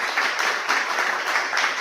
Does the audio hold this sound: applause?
yes